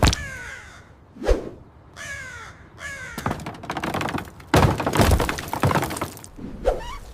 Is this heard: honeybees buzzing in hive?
no